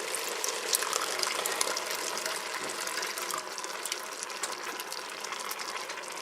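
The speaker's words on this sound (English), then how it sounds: "I'm going to add in 2 cans of tomato sauce" Two cans of tomato sauce are emptied into an Instant Pot, giving a soft steady gushing, slopping pour with faint clicks and rattles, quiet and close with no talk.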